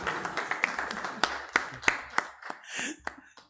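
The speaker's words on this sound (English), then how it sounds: "Singh claps for everyone now." Audience applause led by Dr. Singh at the INAE Technology Conclave 2025, sharp individual claps in a loose, uneven rhythm, some loud and close, fading toward the end with faint murmuring.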